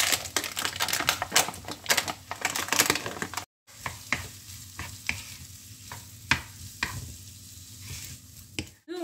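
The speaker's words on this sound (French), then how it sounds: "Quand ils deviennent un petit peu translucides comme ceci, j'ajoute mes lardons." Chopped onions and bacon lardons crackle and sizzle in a frying pan, close and busy. Repeated scraping stir strokes cut through, with a brief pause midway before the frying resumes.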